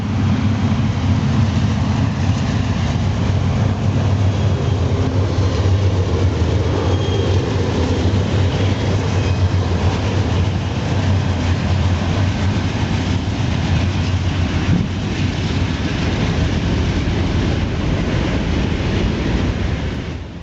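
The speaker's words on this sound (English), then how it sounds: "eastbound manifest 14G makes its way through the yard" Eastbound Norfolk Southern manifest freight train rolling through a rail yard, a steady, loud rumble of wheels and cars that holds throughout without letting up.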